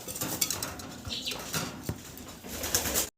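Modena pigeons in a loft give soft, low coos among light rustles, wing flutters and a few sharp clinks, close by and fairly quiet over a short stretch.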